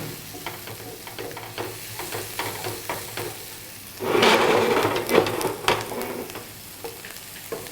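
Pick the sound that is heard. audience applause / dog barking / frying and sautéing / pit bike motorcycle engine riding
frying and sautéing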